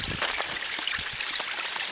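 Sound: stream of clear water flowing

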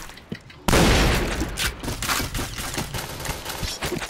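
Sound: gunfire in video game Point Blank

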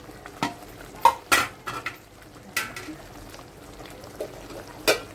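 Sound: adding paneer to boiling gravy in a pan

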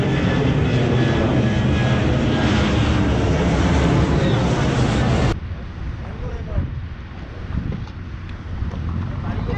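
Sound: airplane taking off from Malé airport, Maldives

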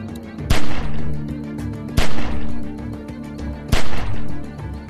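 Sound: gunfire in The Walking Dead: 400 Days video game

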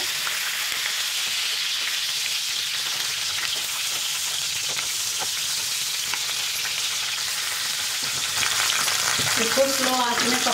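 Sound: stuffed eggplant (bharwa baigan) frying in a pan

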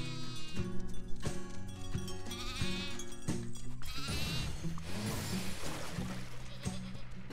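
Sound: Alpine goats bleating in video game Farm Together

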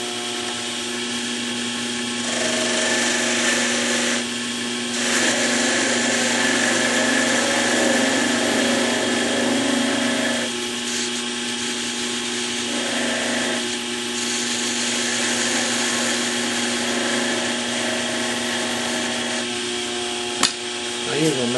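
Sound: wood lathe turning a wooden pencil barrel

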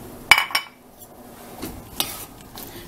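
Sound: stirring food in a pot

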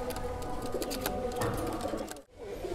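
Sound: Saharanpuri pigeons cooing

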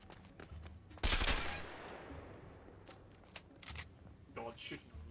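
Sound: gunfire in the video game A Way Out

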